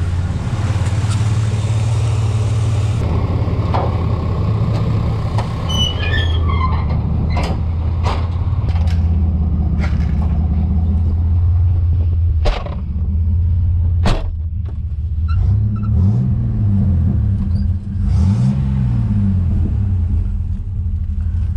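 A 1988 Chevy S10 with a 4.3L V6 idles roughly with a steady low rumble, with a few small revs and clanks nearby, heard close and alone.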